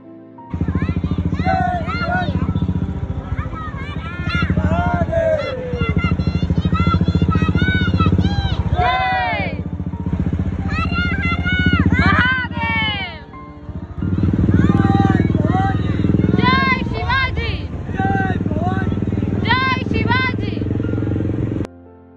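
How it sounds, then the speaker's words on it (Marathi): Motorcycles rumble along in a Shiv Jayanti bike rally from a housing society, a steady engine drone running under loud, continuous cheering and shouting voices. "बाईक रॅली काढण्यात आली"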